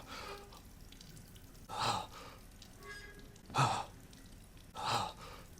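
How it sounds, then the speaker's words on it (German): Ethan, the character in Resident Evil Village, breathes heavily and raggedly, with three distinct heaving breaths at steady intervals over a quiet, faintly dripping game background. "Ethan ist nur fest schnaufen."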